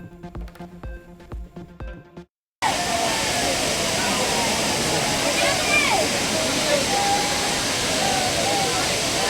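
Courtallam Main Falls roars in a steady, loud, full wash of falling water where weekend crowds bathe. It comes in abruptly after a brief musical jingle and continues unbroken to the end.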